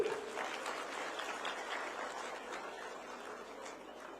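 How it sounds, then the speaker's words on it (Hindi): Audience applause at the closing ceremony of the Basant Utsav 2026 spring festival in Dehradun, a steady wash of clapping that starts strongest and slowly eases, fairly distant and moderately quiet. "अब तो ताली बजाइए जोर से"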